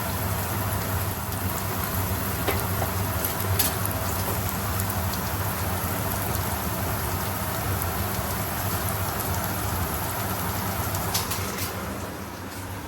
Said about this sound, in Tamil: எண்ணெய் சுட்டுட்டு கடுகு, பெருஞ்சீரகம், வெந்தயம் வெங்காயத்தை தூக்கி போட்டுருவோம்